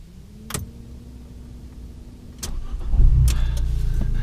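An Audi S1 or Abarth 695 Biposto car engine starting: a few clicks and a brief cranking whir, then the engine catches into a close, steady low idle rumble, with no talking.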